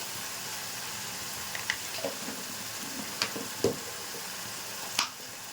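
Spices for a fish curry of small rohu-type fish with potatoes, including cumin powder and Kashmiri red chilli powder, sauté in oil in a pan. A soft, steady frying sizzle runs throughout, broken by scattered sharp clicks and spatters of stirring.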